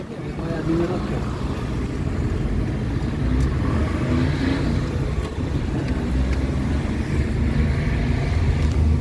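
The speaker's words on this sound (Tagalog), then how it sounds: "Philippine traffic." Dense street traffic in the Philippines, with a steady rumble of car and motor engines close by, continuous and loud throughout, with faint voices mixed into the noise.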